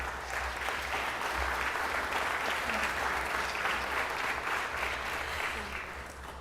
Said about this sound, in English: If you would please join me in giving them a big round of applause.